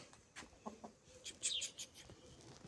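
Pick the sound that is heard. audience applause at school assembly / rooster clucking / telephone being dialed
rooster clucking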